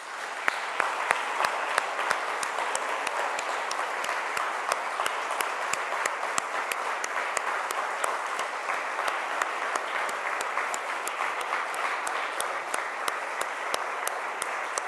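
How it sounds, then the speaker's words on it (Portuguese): A church congregation applauds in a long, sustained wave of clapping, with rhythmic claps standing out regularly against the dense crowd sound and holding steady for the whole stretch. "Vamos aplaudir o Rei Jesus."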